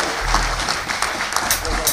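Church congregation at a congress applauding, a quick burst of clapping mixed with voices and cheers from the crowd, fairly loud and close, with a low rumble underneath.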